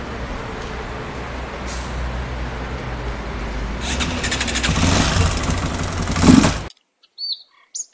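A motorcycle engine fires up and idles, then revs louder for a few seconds before cutting out abruptly. A couple of faint short sounds follow in near silence.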